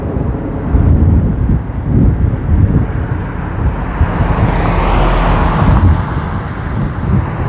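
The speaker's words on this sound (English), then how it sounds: "It's a nice car that just rolled by." A car rolls by on a suburban street in Jonesboro, Georgia, its tire and engine roar swelling then fading, heard from a moving electric scooter with steady wind noise on the microphone.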